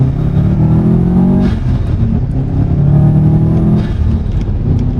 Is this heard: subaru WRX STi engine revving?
yes